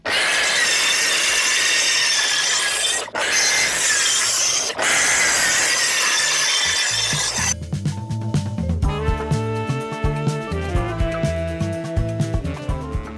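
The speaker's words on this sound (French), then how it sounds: "j'affine les découpes grâce à la scie circulaire, la scie japonaise et la scie sauteuse" A saw rasps loudly and steadily through wood floor joists, pausing briefly twice, then gives way to a harsher, whining buzz with a rattling rhythm; circular saw, Japanese saw and jigsaw are in use.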